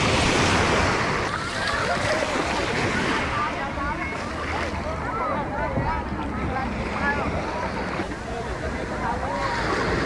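Waves and gusting wind on a beach somewhere in the Philippines, a steady loud rush of surf with wind buffeting the microphone throughout.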